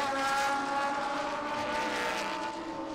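Lamborghini and Bentley GT race cars scream past at speed during a GT Asia round, a loud sustained engine drone with rising and falling harmonic whine as they pass, a steady roar filling the whole moment without commentary.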